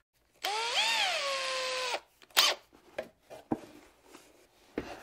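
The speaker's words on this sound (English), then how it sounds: "I'm just stepping up through the drill bit sizes now." A power drill boring through a battery-build part with step-up bit sizes, one loud whirring run of about a second and a half with pitch dipping under load, followed by scattered clicks and handling knocks.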